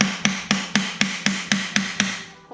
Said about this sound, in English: I'm going to pre-hammer them into this piece of wood